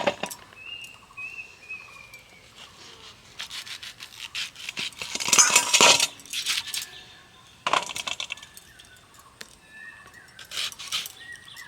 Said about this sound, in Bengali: ঠিক এই রকমভাবে আমটাকে কেটে নেব